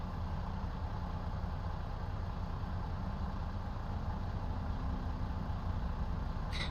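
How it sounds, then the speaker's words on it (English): A truck engine idles in American Truck Simulator, a steady low rumble with an even mid-range drone running throughout, ending with a brief higher click. "And then I get to hear the engine in this view again."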